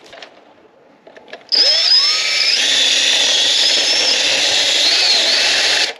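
A power drill whirs steadily while being driven into a Lexus IS F carbon steering wheel near the airbag, starting after a few faint clicks and holding a loud, even whine with slight pitch wavers.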